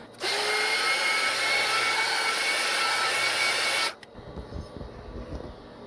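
A heat gun blasting steadily for about four seconds as heat shrink tubing is shrunk over four wire joints while repairing a Cyborg Rat 7 gaming mouse, a loud even hiss that cuts off abruptly, followed by quiet handling noises.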